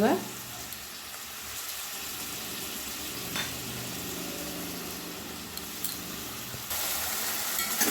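Ground spices and spice paste fry with chicken in a mustard-mango curry, a steady close sizzle with occasional scraping stirs and a brief louder burst near the end.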